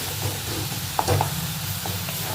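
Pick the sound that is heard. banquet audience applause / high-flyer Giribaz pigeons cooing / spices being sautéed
spices being sautéed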